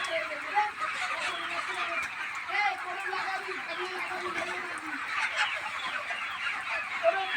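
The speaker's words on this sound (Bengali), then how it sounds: "মুরগির খাবার মারছে দেখুন।" Chickens clucking steadily while pecking at feed, a continuous close chorus of short clucks and murmurs with a person talking over them.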